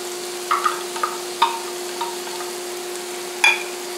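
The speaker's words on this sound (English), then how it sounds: "Now I'm going to add my chilies" Chilies go into taco filling already sizzling in a pan, giving a steady soft fry with a few scattered stirring clicks and scrapes and no talking.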